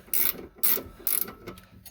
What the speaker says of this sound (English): unscrew the nut, and then we'll pull the whole thing out